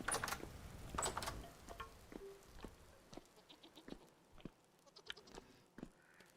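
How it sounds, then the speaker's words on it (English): Goats bleating in the survival game Vintage Story, a series of short, fairly faint bleats and nasal cries at irregular intervals, with scattered small clicks and rustles around them. "The goats eat pretty fast, so let's feed them again."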